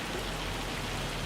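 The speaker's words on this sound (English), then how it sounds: "the hail comes teeming down" Steady dense hail pelting down in the farming game Farm Sim 25, a constant close wash of hiss and patter with no pauses and no voices over it.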